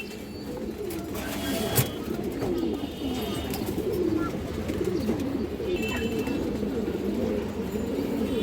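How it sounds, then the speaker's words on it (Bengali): Pigeons cooing steadily in a loft or bird market, the soft warbling calls overlapping and continuous throughout with some faint background voices. "অনেক চঞ্চল একটা কবুতর দশক"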